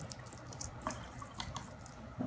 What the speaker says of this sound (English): If I rinse off my brush,